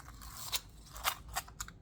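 Another measuring tape handled close up in a quiet ASMR setting, producing four or five sharp clicking snaps at uneven intervals over soft scraping and rustling, with no voice.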